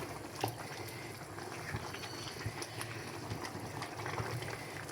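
Jackfruit curry with garam masala powder sizzles and bubbles quietly in a pan, a soft continuous simmer with small pops, faint and steady throughout.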